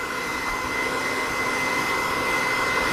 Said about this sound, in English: And that's blow drying.